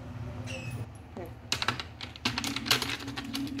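Keys clatter on a computer keyboard during an English typing lesson, arriving in quick bursts of clicks and taps of moderate loudness, close by, over a low steady hum.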